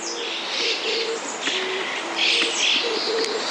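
Birds call continuously in a bamboo forest, with repeated tonal chirps and coos layered over a steady background of birdsong and no talking.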